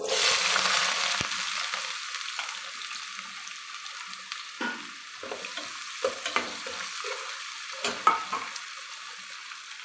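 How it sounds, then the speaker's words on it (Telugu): Two chopped onions frying in hot oil with cumin and fenugreek seeds for a fish curry, a steady close sizzle broken by scraping stirs of the spoon in the pan, with no talk. "ఈ జీలకర్ర మెంతులు వేగినాక కట్ చేసుకున్న 2 ఉల్లిపాయలు"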